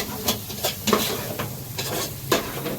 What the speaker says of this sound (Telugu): చూడు వేసుకున్న తర్వాత బాగా కలబెట్టుకొని నూనెలో వేగాల.